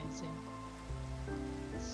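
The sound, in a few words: rain falling in the video game Minecraft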